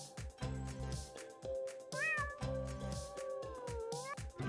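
A cat meows a couple of times, drawn-out rising and falling calls heard plainly over rhythmic background music.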